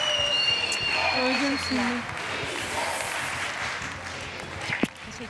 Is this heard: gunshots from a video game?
no